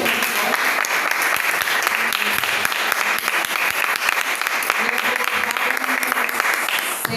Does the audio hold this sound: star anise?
no